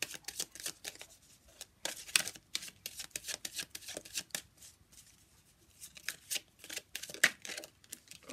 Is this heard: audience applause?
no